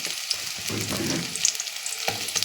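Onions fry in a pan until brown with a moderate hissing sizzle, close by and fairly quiet. A few light stirring taps sound over it.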